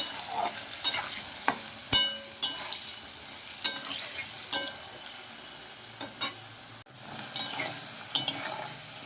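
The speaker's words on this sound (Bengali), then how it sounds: "লবণ আর হলুদ গুঁড়ো দিয়ে আমি আলু টুকরোগুলো ভেজে নিচ্ছি" Potato pieces frying in oil with salt and turmeric, a steady close sizzle broken by regular clinks and scrapes of a utensil stirring in the pan.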